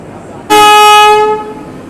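Horn of the 12001 Rani Kamlapati–New Delhi Bhopal Shatabdi Express at departure, a single loud sustained tonal blast lasting about a second over quiet station ambience.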